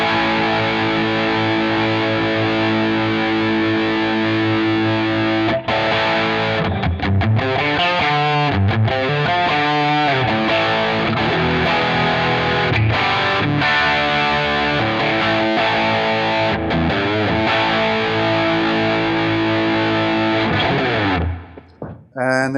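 An Epiphone Les Paul Classic electric guitar played through overdrive rings out loud and sustained, with chords and riffs running continuously for about twenty seconds before a brief cut at the end.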